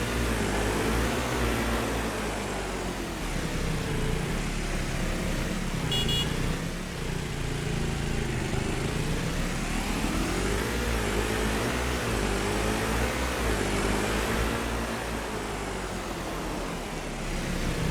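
A dirt bike engine runs continuously while riding, a buzzing drone whose pitch rises and falls gently with throttle over a steady rumble.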